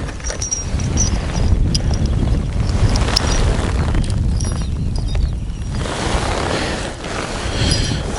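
Strong wind blowing at a lakeside fishing spot in Yakutia, roaring steadily and loudly across the microphone in heavy buffeting gusts for the whole stretch, with faint rattling and clinking underneath.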